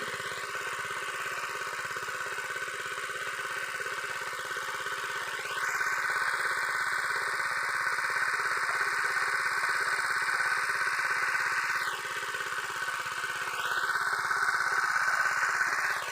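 Engine-driven water pump running outdoors in Si Nakhon, Sukhothai, a steady droning engine hum with a whining tone that rises and falls slowly, moderately loud and uninterrupted.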